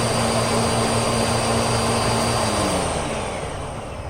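A Miele Jazz S7280 vacuum cleaner runs with its brush roll spinning and all filters in, giving a loud, steady whine and rush that eases slightly toward the end.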